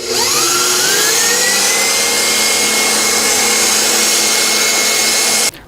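An electric stand mixer whips Swiss buttercream icing, spinning up with a rising whine that settles into a steady high-pitched whirring drone, loud and continuous, then cuts off abruptly at the end.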